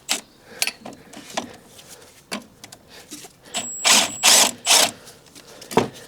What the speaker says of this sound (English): So we'll get ourselves that 17mm spanner we were talking about.